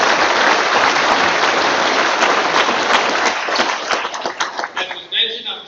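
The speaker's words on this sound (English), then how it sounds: "Let's give them a round of applause" A graduation ceremony audience gives a sustained round of applause, dense and loud at first. It thins into scattered individual claps near the end.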